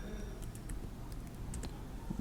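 Quick, light keystrokes tapped on a computer keyboard while entering a terminal command, a short irregular run of soft clicks over low background hum.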